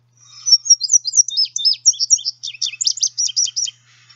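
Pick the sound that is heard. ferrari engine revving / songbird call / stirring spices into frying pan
songbird call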